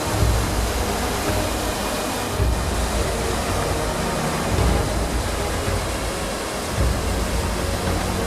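A mountain torrent running with abundant water, the Sallente stream, roars loud and close as a continuous rushing wash with slight surges, heard alone without voices.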